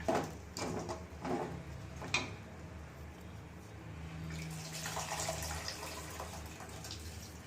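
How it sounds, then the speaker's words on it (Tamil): Tamarind water poured into a pan of simmering kovakkai (ivy gourd) gravy, a soft splashing trickle that builds midway and runs steadily through the second half, close and fairly quiet, with a few light clinks early on. "புளி தண்ணி கொஞ்சம் சேர்த்துக்கலாம்."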